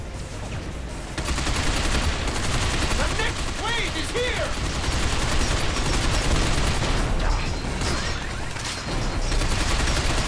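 Sustained bursts of automatic gunfire and explosions from a firefight in the video game Binary Domain, loud and dense throughout with continuous battle noise and voices talking over the shooting.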